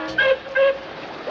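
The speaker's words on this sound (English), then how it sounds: "Scuffy tooted his horn," A tugboat horn toots twice in quick succession, short bright honks close by, followed by a quiet pause.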